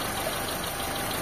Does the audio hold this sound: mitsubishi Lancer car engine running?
yes